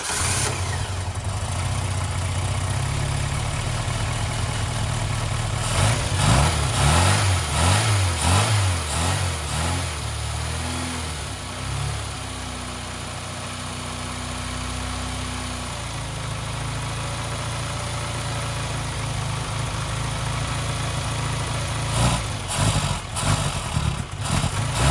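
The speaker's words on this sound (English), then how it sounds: "we've obviously got a slight problem with the idle there" A barn-find Austin Maestro car engine with a faulty idle runs roughly and unevenly, with a brief burst of revving early on before it settles back to a continuous uneven idle heard close up.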